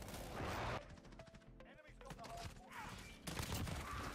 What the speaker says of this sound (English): he's just firing rockets into the smoke